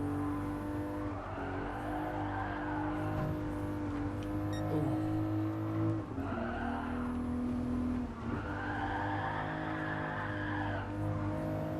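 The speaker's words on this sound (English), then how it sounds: "Oh, that was a pretty long drift." A rear-wheel-drive car drifts in the Gran Turismo Sport racing game, its engine droning steadily while tires squeal and skid through long slides, loud and continuous with no voice over it.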